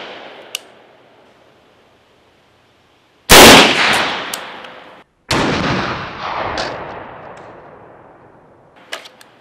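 Rifle shots with 55 grain full metal jacket rounds fired at a PMAG magazine: two loud, close cracks, each followed by a long ringing decay, with faint clicks between.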